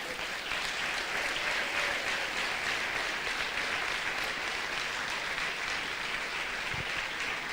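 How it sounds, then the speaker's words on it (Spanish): A church congregation applauds in a dense, sustained wash of clapping that holds steady and loud throughout, with no talk over it. "Amén, denle un aplauso a Él."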